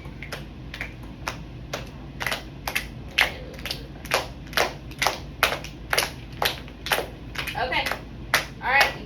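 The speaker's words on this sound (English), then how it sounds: "you gotta stop clapping so we can go to the next sentence" Children clap their hands in a classroom, a quick series of about twenty sharp, fairly close claps in an uneven rhythm, some in small bursts, with faint background murmur.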